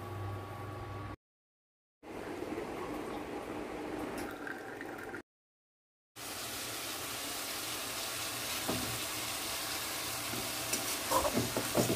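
Bitter gourd, long beans and onion stir-frying in a pan with salt and turmeric, a steady close sizzle with scraping stirs, broken by two short silent gaps.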